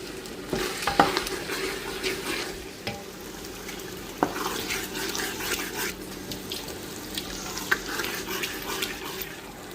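Onions sizzling and crackling in a pan for Ethiopian doro wat, with occasional scraping stirs, a steady close frying hiss and no talk.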